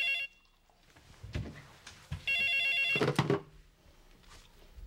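An electronic telephone ring sounds in two short bursts, with a few thumps and faint rustling between them; no one speaks.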